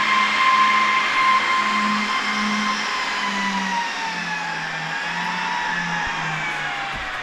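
Fans of a Dell PowerEdge R710 server spinning up at boot, a steady loud whir with rising and falling tones and a low hum, continuous and close with no talk.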